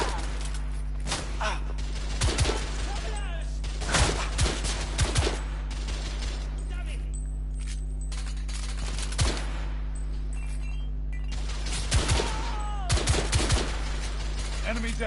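Gunfire in a shooter video game: bursts of automatic shots and single cracks scattered across the scene, loud and near at times, with quieter stretches between volleys over a steady low background hum.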